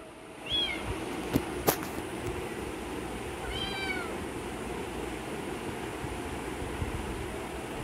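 A cat gives two short, faint meows a few seconds apart, heard against a steady background hiss, with a couple of sharp clicks early on.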